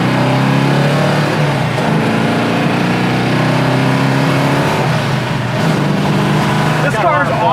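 A 1973 Plymouth Cuda's engine runs loud and close while warming up, roaring steadily and rising and falling as it is revved, with a brief sharper flare near the end.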